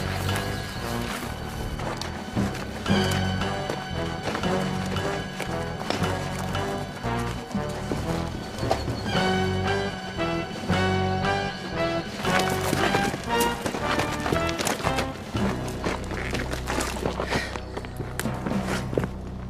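Horses run past with a busy pattern of hoof clip-clop and thudding footfalls, woven through a loud film soundtrack of music, occasionally with what may be a whinny.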